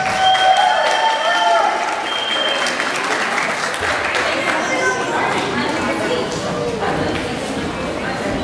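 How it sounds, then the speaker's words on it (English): Sustained audience applause fills a school pre-kindergarten step-up ceremony, a dense wash of many hands clapping at steady loudness for the whole stretch, with background chatter mixed in. "Let's give them a round of applause."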